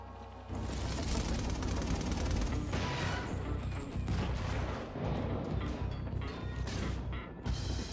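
Sustained gunfire in the video game inFamous Second Son, a loud, dense fusillade of rapid shots and mechanical clatter that rolls on continuously without talk.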